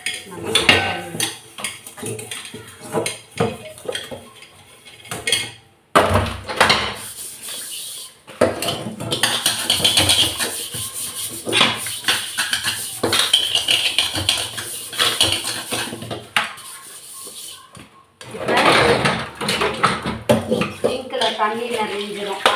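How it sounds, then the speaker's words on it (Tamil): Pots and vessels are washed in a small zinc sink, with clanking metal, scraping and splashing water arriving in uneven bursts, broken by a few brief pauses. "இப்போ எவ்வளோ பெரிய பாத்திரம்னாலும் நம்ம கழுவி."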